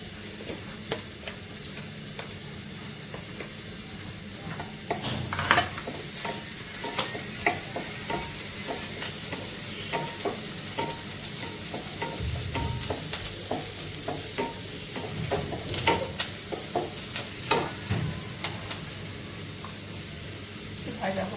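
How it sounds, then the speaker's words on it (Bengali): Onion and garlic frying for a dal tempering, with a steady sizzle under repeated scraping stirs of a spoon in the pan. The sizzle grows louder after the first few seconds and holds to the end. "ডাল বাগার দিচ্ছি পেঁয়াজ আর রসুন দিয়ে"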